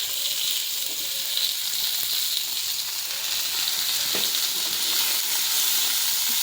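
Chutney ingredients fry in a pan over a gas flame, a steady bright sizzle and hiss that stays even and close throughout, with a faint stir near the middle and no talking.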